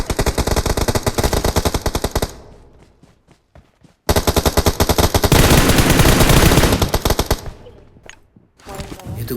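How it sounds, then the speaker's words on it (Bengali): Enemy gunfire in the battle-royale game PUBG: loud, close bursts of rapid automatic fire, one long stream, a short gap with scattered shots, then a second, denser barrage. "এনিমি ফায়ার দিচ্ছে ওই বাড়ি থেকে"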